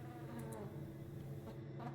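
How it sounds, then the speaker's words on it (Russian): A housefly drones in a continuous, low buzz, fairly close and steady, with no talk over it. "Какая-то муха летает."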